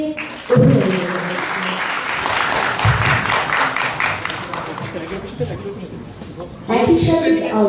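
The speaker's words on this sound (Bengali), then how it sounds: "আমরা করতালির মাধ্যমে অভিনন্দন জানাচ্ছি।" An audience at a debate competition prize-giving ceremony at FDC applauds, a sustained wash of clapping under a loudspeaker announcer's voice, which returns more strongly at the end.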